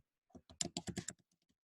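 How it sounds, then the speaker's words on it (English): Quick bursts of typing on a computer keyboard, about eight close key clicks in a tight cluster, then a few faint scattered taps trailing off, with no voice over them. "I'm going to type it because it'll be easier"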